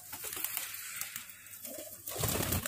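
Deshi Giribaz pigeons cooing nearby, soft repeated throaty coos running through, with a louder, fuller cooing swell near the end and no talking.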